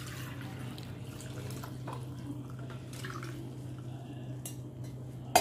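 Curdled milk being strained for homemade cheese, a soft continuous trickle and drip of whey pouring through a strainer in a kitchen, with a low steady hum underneath and a small clink at the end.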